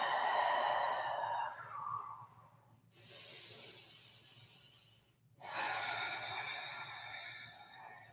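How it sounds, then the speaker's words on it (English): Slow breathing in a yoga pose, a long audible breath at the start and another after a pause, close and fairly soft, with quieter airy gaps between. "we'll offer a few breaths here"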